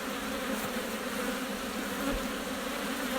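Honey bees buzz on an open hive frame, a dense, steady hum close by that holds constant without any speech.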